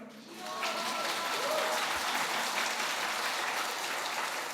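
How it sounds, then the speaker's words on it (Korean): A congregation claps during a Sunday sermon in a Korean church, a steady wash of applause that rises quickly and holds at moderate, somewhat distant loudness, with faint voices mixed in. "우리가 박수 쳐드리고 싶습니다"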